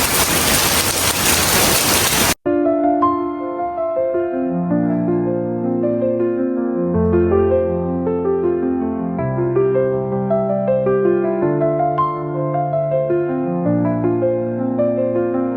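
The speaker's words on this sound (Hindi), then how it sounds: "बहुत तेज बारिश है" A couple of seconds of loud, dense rain hiss pouring down, then it cuts abruptly to soft, melodic instrumental music that carries on alone.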